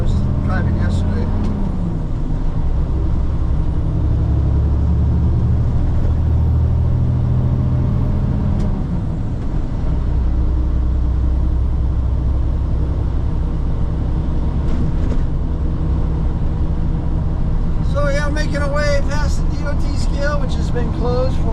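A truck's engine rumbles low and steady while driving in third gear, with road noise throughout and a shift in engine tone partway through.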